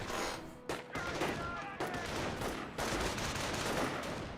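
Gunfire in the strategy game Company of Heroes, with bursts of suppressive fire on Volks Grenadiers; dense, continuous rattling volleys and explosions fill the whole stretch at steady loudness, with faint talk beneath.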